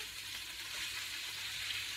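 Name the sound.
kale chips sizzling in hot oil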